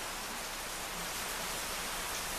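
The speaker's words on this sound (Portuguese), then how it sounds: "Escutem o barulho da chuva." Steady rain falls during rainy weather, a dense even hiss of drops that stays constant with no other sounds.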